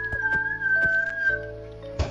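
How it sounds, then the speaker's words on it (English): A person whistles a steady sustained tone that shifts pitch slightly, loud and close, broken by a few soft clicks and bumps, with a short thump at the end. "It's harder to whistle with your lips than it is with your tongue."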